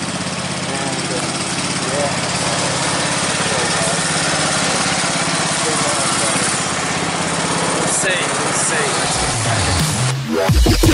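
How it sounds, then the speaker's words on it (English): A ride-on lawn mower cutting an overgrown yard, its engine droning steadily and loudly up close throughout, with a brief word spoken near the end. "so just mowing all this and cleaning up these edges"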